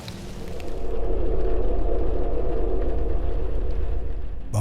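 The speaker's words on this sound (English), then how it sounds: "the distinct change from being outside in the almost overpowering rain and then heading inside" Heavy, almost overpowering rain roars steadily outdoors in a Resident Evil-style horror game, a dense continuous wash with a low rumble underneath that holds loud throughout before cutting off abruptly at the end.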